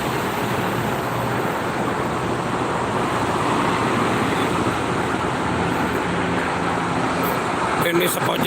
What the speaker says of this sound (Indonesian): Banyakan mobil pribadi